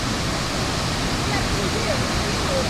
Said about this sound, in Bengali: ऐसे ऐसे करके देखिए जो पानी गिर रहा है ना